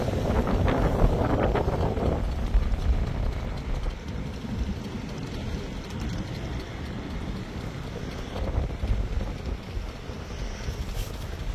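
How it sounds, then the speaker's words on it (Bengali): Passenger launch MV Parabat-11 passing beneath the Muktarpur bridge at Munshiganj around dawn, heard as a steady roar of wind over a low, continuous engine and water rumble with no voices. "আর লঞ্চ এখন মুন্সিগঞ্জের মুক্তারপুর ব্রিজ অতিক্রম করতেছে"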